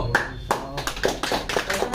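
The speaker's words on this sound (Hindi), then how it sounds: "ताली करो।" A few people clapping their hands in a Hindi mobile repair coaching class, sharp separate claps that quicken into a brief patter over two seconds, with talk in the background.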